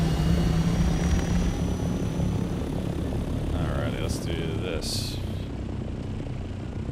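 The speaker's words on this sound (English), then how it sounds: "the engine sounds of the ornithopters, so they're not so loud" An ornithopter engine from the video game Dune: Awakening drones loudly and continuously with a whirring, propeller-like roar. Someone briefly speaks over it.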